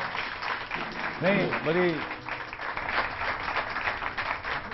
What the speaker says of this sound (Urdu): واقعی پاکستانیوں میں لڑکیوں نے زیادہ تالیاں بجائی ہیں اس بات پہ